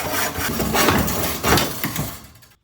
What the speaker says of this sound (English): I'm going to use a hacksaw.